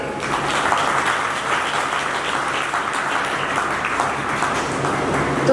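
Loud, sustained applause from an audience at a spiritual talk, a dense wash of clapping hands that holds steady for several seconds without speech.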